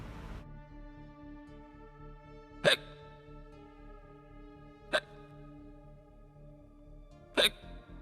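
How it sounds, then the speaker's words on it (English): Three sharp hiccups break a quiet children's story reading of Skeleton Hiccups, each a brief abrupt catch spaced a couple of seconds apart over a soft steady musical background. "Had the hiccups."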